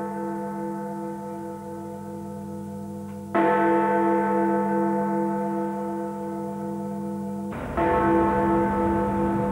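Big Ben, the great clock bell, strikes twice with deep, ringing tones, each blow swelling loudly and then humming on in a long sustained decay, with no voices present.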